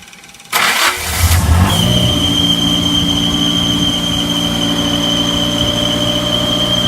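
An old generator on a houseboat cranks and catches, then settles into a loud, steady running drone with a high whine, close by and alone without talk.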